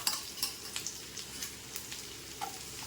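Onions sautéing in hot oil in a pan for paneer butter masala, a steady close sizzle with repeated scrapes and stirs of a spoon, no talking.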